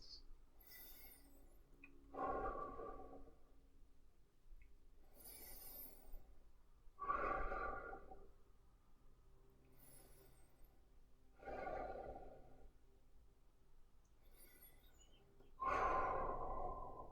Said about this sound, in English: 7 deep breaths.